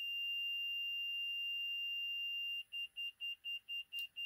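Diagnostic beeps during a fuel injector balance test on a Workhorse chassis with an 8.1 Vortec engine: a steady high electronic tone, then seven evenly spaced short beeps in quick rhythm, clear and close, with no talk.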